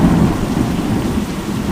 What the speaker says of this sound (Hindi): आसमान में काले काले बादल गरजने लगते हैं, फिर आंधी, तूफान, बारिश।